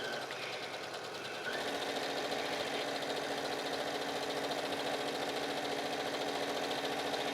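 A sewing machine stitches a quarter-inch seam along a pleated pillow cover, running as a steady, close mechanical whir with a fine rapid stitching rattle that starts after a quieter first second and continues evenly.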